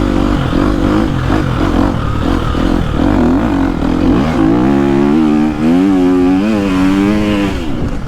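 A 2023 KTM SXF four-stroke dirt bike with an FMF exhaust accelerates hard and close, its loud engine note climbing in pitch through several rising revs across the clip.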